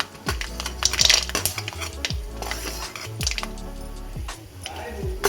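Peanuts tipped into hot oil already crackling with mustard seeds, sounding as close clinks and scrapes of a metal pan and utensil with a soft sizzle underneath, repeated stirring knocks across the span.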